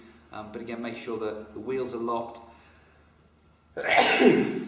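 A person talks, pauses briefly, then lets out a single loud, explosive sneeze close to the microphone.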